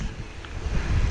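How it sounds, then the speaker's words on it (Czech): Strong wind blowing into the microphone at an outdoor pumptrack in Slovakia, a loud low rumbling buffet that builds toward the end, with no talk. "dneska teda docela hodně fouká, možná, že je to i slyšet v tom videu"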